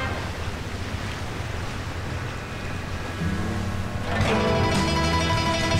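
Water washes and churns steadily with wind rumble, and a motor hum rises partway through as a boat moves along in the video game Sleeping Dogs.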